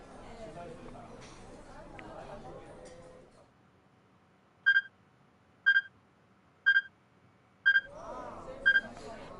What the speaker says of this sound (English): I heard the strange beeping sound again, subtly different than the first time.